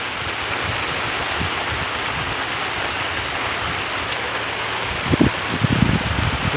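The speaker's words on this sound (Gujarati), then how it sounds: "જુઓ, વરસાદ ફૂલ ચાલુ થઈ ગયો છે." Dense, continuous heavy rain pours down in a steady roar, with a few heavier splashes and thuds near the end.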